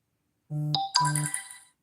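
A phone ringtone sounds alone and close: two short electronic melodic bursts in quick succession, the second bright and ringing out briefly before fading.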